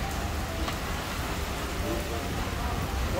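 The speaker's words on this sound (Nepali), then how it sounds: "पानी पर्यो" Steady rain falls outdoors near Dharan, Nepal, a dense, even hiss that holds at a constant level with no talking heard.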